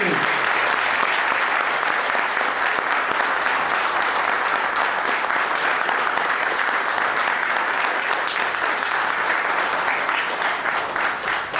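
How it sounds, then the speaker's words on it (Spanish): A large audience applauds steadily for a Malvinas war veteran at a political speech, dense sustained clapping filling the whole stretch at close, loud level with crowd murmur mixed in. "Pedimos un fuerte aplauso para el veterano de guerra Claudio Domínguez."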